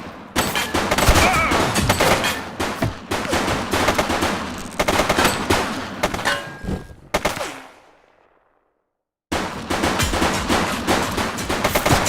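Rapid automatic gunfire bursts in The Precinct police video game, loud and continuous fusillades with brief pauses, cutting to a few seconds of silence before the shooting resumes.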